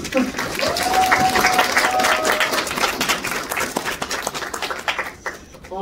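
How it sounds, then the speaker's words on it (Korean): At a film premiere event, a cinema audience breaks into sustained applause that holds steady, then thins toward the end, with voices audible through the clapping. "우리 박수 한번 좀 칠까요?"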